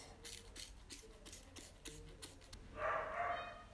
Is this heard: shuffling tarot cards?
no